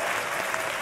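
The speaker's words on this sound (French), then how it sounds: "On va l'applaudir très fort, s'il vous plaît." A brief, full burst of audience applause at a festival stage interview, dense and even clapping from the crowd.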